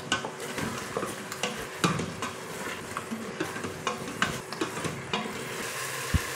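Chicken sizzles and fries in a spiced curry pan while a spoon scrapes and stirs through it, soft crackling steady underneath with intermittent clinks and scrapes of the utensil against the metal.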